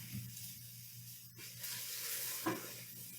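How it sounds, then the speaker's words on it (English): Yellow pepper and mushroom pieces sizzle steadily in olive oil in a big pot over medium-high heat, with a spoon stirring through them and one sharper scrape partway through. "as you can hear sizzling right now, so I've cut up two yellow peppers, and 2 cups of mushrooms"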